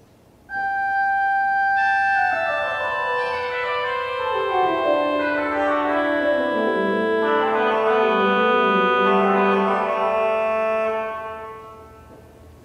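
Organ plays the canon from Bach's Goldberg Variation 6 with its voices displaced, two sustained lines entering one after another and weaving downward in close imitation, loud and steady before a fading end, with no talking.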